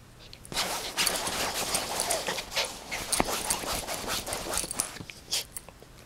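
A dog up close, clawing and pawing at a Hello Kitty toy's eye, with snuffly panting and a faint whimper, busy and restless throughout.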